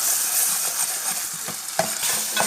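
Crushed ginger and garlic fry in a pan for chilli prawns, a close crackling sizzle with repeated scraping and tapping of a spatula stirring the paste.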